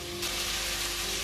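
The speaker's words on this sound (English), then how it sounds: "To the pork, which is cooking nicely, it's going all nice and brown." Pork browning in a pan for Hungarian paprika goulash, giving a steady, moderately loud sizzle and crackle with a faint hum underneath, no voices.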